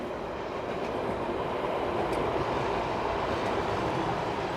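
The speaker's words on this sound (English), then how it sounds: "The metro rail passes during the day, like maybe, I don't know, every 7 to 10 minutes" A metro rail train passes near a South Miami and Coral Gables campus area with a loud, steady roar and rumble of wheels on rails, sustained throughout with faint high squeals on top and no speech.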